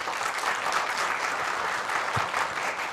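A dense, steady wash of audience applause from a crowd at a televised debate, with many hands clapping continuously and evenly throughout at a moderate, slightly distant level.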